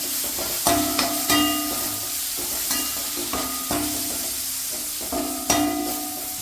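Chopped tomato and turmeric fry in hot oil for a dal curry, giving a steady broadband sizzle, with a spoon stirring the pan in several distinct scraping strokes over it. The sound is close and moderately loud.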